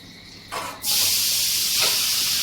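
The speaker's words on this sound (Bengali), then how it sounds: "গাজরগুলোকেও দিয়ে দেবো, দিয়ে ভেজে নেবো।" Carrots hit hot ghee in a pan with a bay leaf. A short burst comes first, then a sudden loud, steady frying hiss that holds close and even to the end.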